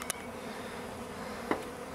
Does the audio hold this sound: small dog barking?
no